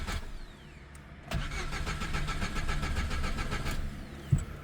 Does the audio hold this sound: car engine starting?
yes